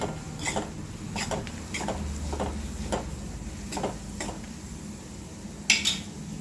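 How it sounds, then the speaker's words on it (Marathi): A utensil scrapes and clinks against a pan in a string of irregular strokes as salted aubergine bharit mixture is sautéed, with a low background hum and no talking. "इथे मी मीठ घातलेलं आहे आणि याला छान 1 मिनिट परतून घ्यायचं आहे."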